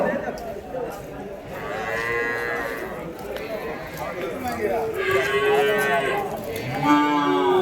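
At the Vaniyambadi cattle market, a bull moos in long, low, drawn-out calls close by, repeated several times over a busy crowd background while someone talks.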